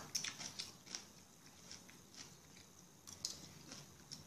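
Close, crisp crunching bites and chewing of fermented vegetables and kimchi, a few bursts clustered at the start and again near the end, fairly quiet with pauses in between.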